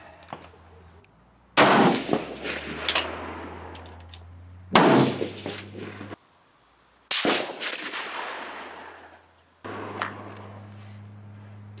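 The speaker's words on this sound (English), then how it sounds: "That's a Nice 10-shot string right there." Several rifle shots from a K31 rifle at a range test crack sharply one after another with pauses between them, each loud report followed by a decaying echo over low background rumble.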